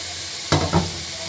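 Steamed banana blossom hits a pan of already-fried onion and chili, setting off two quick bursts of hot sizzling while it is stirred in, each flaring loud then settling back to a low background hiss.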